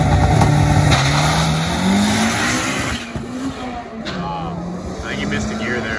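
A K20 turbo 7th-gen car accelerates hard on a drag strip pass, its engine note climbing in pitch with a dip at a gear change before it rises again, loud and close while people talk over it.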